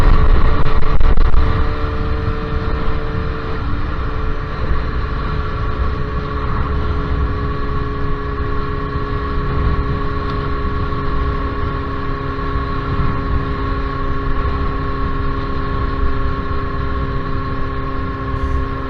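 Suzuki GSX-R motorcycle cruising Lincolnshire country roads, a steady, loud engine drone with a constant whine and wind rush, unchanging throughout with no speech.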